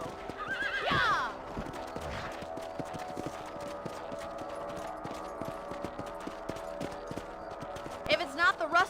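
A horse in the Red Dead Redemption video game neighs loudly near the start and again at the end, while steady clip-clop hoofbeats of a gallop run throughout over a constant game soundscape.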